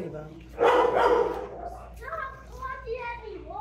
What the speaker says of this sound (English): Oh, they're just dogs.